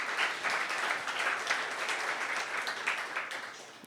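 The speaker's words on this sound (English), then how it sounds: "How about a round of applause for Kyle" Steady applause from an audience at a tech meetup talk, many hands clapping at a fairly quiet, even level for several seconds before tapering slightly at the end.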